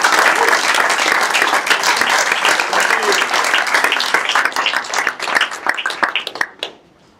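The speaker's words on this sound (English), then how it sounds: "give a great round of applause" A crowd at a live auction applauds loudly and steadily, the clapping thinning out and fading away over the last second.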